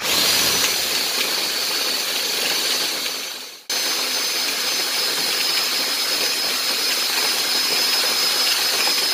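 A power drill drives a pepper grinder to grind coffee, a loud, steady whirring hum that briefly cuts out and then resumes just as strongly and continues evenly.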